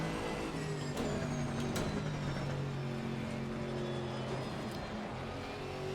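Race car engine in the Assetto Corsa Competizione video game, a big front-engine car, droning and revving steadily with reverb, moderately quiet and alone without talk.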